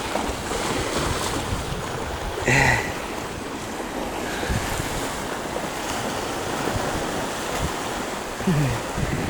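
Irish Sea waves surge steadily at an island shoreline, a broad, continuous wash with wind buffeting the microphone and a couple of brief louder swells.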